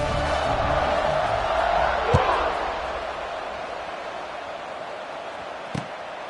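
Stadium crowd roars at a football kickoff, a broad sustained swell that peaks then gradually fades, with a sharp thump of the kicked ball and another hit later.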